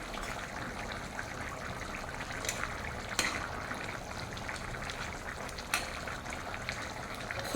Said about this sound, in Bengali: দেখুন কেমন ঘোড়ার মতো টকবক টকবক করে ফুটছে